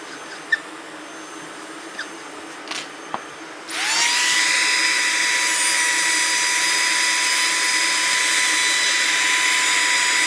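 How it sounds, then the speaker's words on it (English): Quiet room with a few small clicks, then a woodworking machine and shop vacuum spin up together into a loud, steady, high-pitched roar that continues to the end, while chamfering a speaker cabinet. "now going to make some sawdust and some noise. So we'll turn all the vacuum on here"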